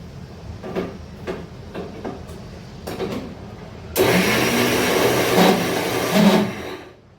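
A mixer grinder grinding spice paste for a banana plant stem sukka, starting after a few light knocks and then running with a steady, loud whirring roar for several seconds before stopping.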